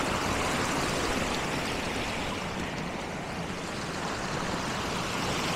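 Steady rushing water pours continuously over a road in Carding Mill Valley, a dense unbroken roar like a small waterfall close by, with no voices.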